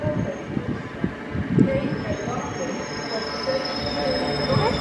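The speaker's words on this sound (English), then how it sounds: "That's a long train and it's a fast one as well" A long fast train rushing past in London, a broad steady rumble and clatter of wheels with faint squeals, near and loud, with voices talking over it.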